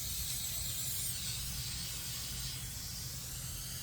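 A spray can hisses steadily while coating parts of a vintage Harley-Davidson golf cart, a continuous close, fairly quiet spray lasting several seconds with no talking.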